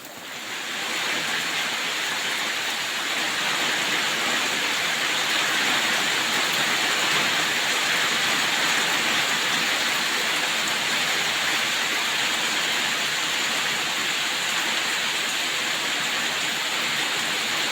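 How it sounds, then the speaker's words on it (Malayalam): Heavy rain pours down in a village, a dense, even roar of hiss that holds steady and loud the whole time with no voices. "അടിച്ചു പൊളിച്ച് മഴ പെയ്യുന്നുണ്ട് കേട്ടോ"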